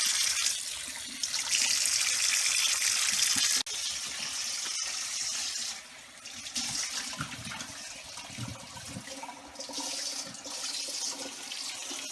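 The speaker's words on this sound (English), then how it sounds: "I usually keep the water running because it's super hot." Hot water from a kitchen tap runs steadily into a sink while cooking plantains, a close, continuous hissing splash that shifts slightly in level and pauses briefly midway, with no voices over it.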